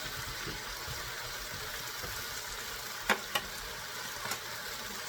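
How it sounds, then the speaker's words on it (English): Chinese broccoli stir-frying in a pan on turned-down heat gives a constant, even sizzle close by, broken by two or three sharp clicks and knocks of utensils against the pan. "Let them cook for another 30 seconds."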